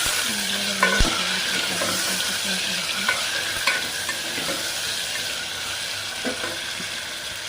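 Tomato, onion and curry leaves frying in a pan for Andhra chicken pulusu, a continuous loud sizzle broken by several clinks and scrapes of stirring, close by, with no voices.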